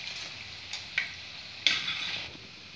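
Bread manchuria pieces frying in hot oil, giving a steady hiss and sizzle with a few sharper pops and crackles, heard alone and fairly close.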